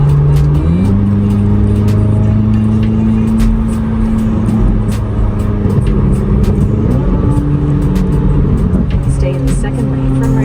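A 2026 Corvette Z06 accelerates hard on a highway, its engine note climbing steadily through a gear change, loud and close from inside the cabin, with road roar beneath.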